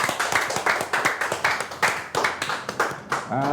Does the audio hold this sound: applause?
yes